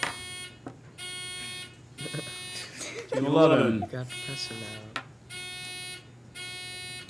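A school quiz bowl buzzer system under test gives repeated loud electronic buzzes, each lasting about a second with short gaps between. A voice speaks briefly over a pause midway.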